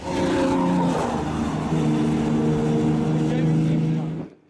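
Race cars lapping the Kirkistown circuit at a 500 motor racing club meeting, a loud sustained engine drone that rises and holds as cars pass close, with commentary over it before fading at the end.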